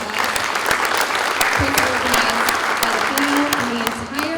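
A breakfast event crowd applauds in a sustained, fairly loud round of clapping, with a voice speaking faintly underneath at times.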